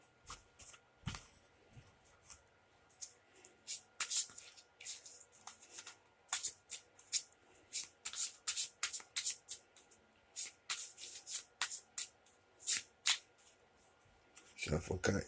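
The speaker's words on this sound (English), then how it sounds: "Shuffle, cut, and draw." Rapid bursts of playing cards being shuffled, riffling in quick clusters with short pauses between, close and fairly soft.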